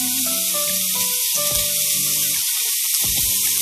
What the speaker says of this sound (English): Yeah, you can get that shit sizzling that motherfucker.